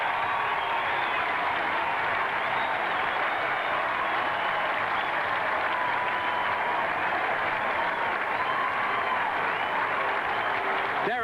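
A huge racecourse crowd of about 95,000 at Flemington roars and applauds steadily for the 1996 Melbourne Cup winner Saintly and jockey Darren Beedman, a dense, continuous wash of cheering with no break.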